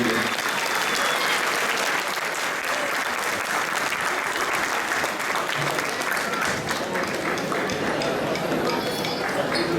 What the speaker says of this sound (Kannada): ಈಗಲೇ ಚಪ್ಪಾಳೆ ಹೊಡೆ ಸ್ಟಾರ್ಟ್ ಮಾಡಿ, ಅವ್ರಿಗೆ